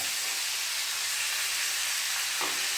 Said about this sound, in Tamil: எண்ணெய் சூடானோடனே வெங்காயம் போட்டுக்கலாம்.